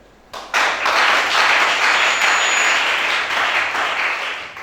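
A church congregation bursts into loud, sustained applause, dense overlapping clapping that swells quickly and holds steady for several seconds before easing slightly.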